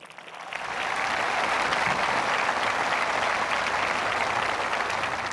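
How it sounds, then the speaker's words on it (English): Graduation audience at Burnsville High School applauding school board directors, a dense, steady wash of clapping that rises quickly and holds loud and sustained throughout, with no talk over it. "Please give them a hand of applause"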